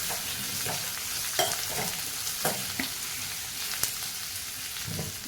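Sliced onion and chopped garlic sizzle steadily in a pan, with scattered scrapes and clinks as a spoon stirs them every second or so.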